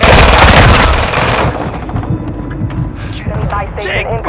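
Gunfire in a military shooter video game, a loud dense burst of shots at the start that thins into scattered, fainter reports over background rumble.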